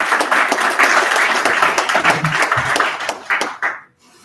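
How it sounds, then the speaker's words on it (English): An audience applauds a keynote speaker, the CEO of International Community Dynamics, at a Congolese community event in Ireland: dense, lively clapping from a crowd that thins to a few last claps and then stops. "Give her a round of applause, please."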